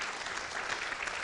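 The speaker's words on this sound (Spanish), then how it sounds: "vamos a aplaudir para recibir la palabra" A church congregation claps together in a dense, steady burst of applause filling the room, with no voices standing out.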